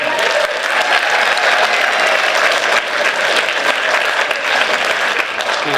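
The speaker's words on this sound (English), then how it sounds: "And if you could have one more round of applause for our moderator" A Cheltenham Hall of Fame audience gives a round of applause for the event's moderator, with loud, sustained crowd clapping that holds an even level from start to finish.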